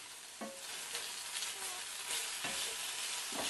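Tomatoes and a spoonful of ginger-garlic paste sizzle in a pan for veg biryani while a spoon stirs through them, scraping strokes rising over a constant frying hiss, close and without voices.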